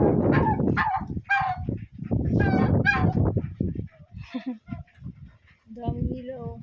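Farm birds, geese among them alongside turkeys and chickens, give brief nasal honks and squawks near the end, following and mixing with talking voices nearby.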